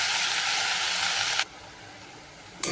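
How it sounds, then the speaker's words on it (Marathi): Pavta beans and potato hit hot masala in a pan, raising a loud, steady hiss of sizzling that drops abruptly to a quieter simmer before flaring up again at the end. "आता हे सगळं परतून झाल्यावर पावटा आणि बटाटा टाकते."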